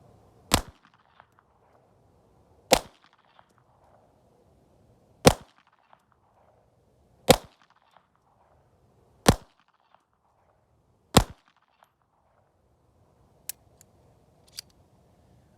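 A 2024 Walther PPK pistol in .32 ACP fires six sharp, isolated shots about two seconds apart against near silence, followed by two fainter, quicker reports at the end.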